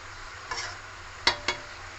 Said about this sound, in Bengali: একটু সাঁতলিয়ে নেব, রান্না করে নেবো একটু